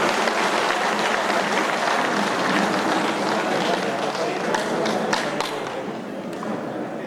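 Loud, sustained applause from a crowd at a Guru Purnima celebration inside a pyramid hall welcoming guests onto the stage, steady clapping that thins into a few scattered claps near the end.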